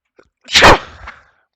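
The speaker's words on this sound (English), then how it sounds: "I'm gonna sneeze again." A single loud sneeze up close, a sharp burst of breath that trails off quickly into silence.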